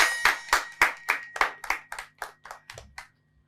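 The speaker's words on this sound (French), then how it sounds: "Commencez par applaudir." Audience clapping in rhythm at a live evening show in Adja, about a dozen loud, evenly spaced claps slowing and fading out, then silence.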